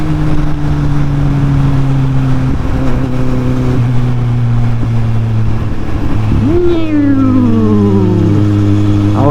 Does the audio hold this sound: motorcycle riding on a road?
yes